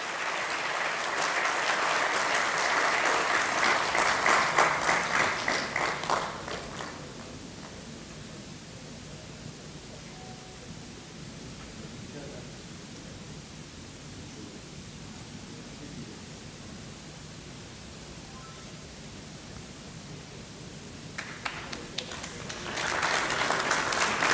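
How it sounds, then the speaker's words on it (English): Audience applause at the HYDRO 2023 International conference, a loud burst of clapping for about seven seconds, then a long quiet stretch of room noise, before clapping rises again near the end. "I request audience for a big clap for this move of IHR and ISH."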